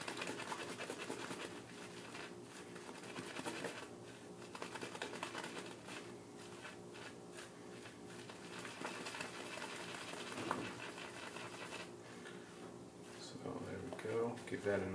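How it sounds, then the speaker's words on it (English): A shaving brush swirls in a tub of soft shave soap during loading, giving a faint wet, rhythmic scrubbing and squelching close by while a voice talks at times. "So we're going to give the brush a generous loading here"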